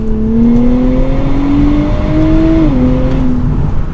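A 2023 Nissan Z Performance accelerates from 50 to 80, its engine note rising steadily through the revs with a brief dip at a gear change before climbing again, loud and close from inside the car.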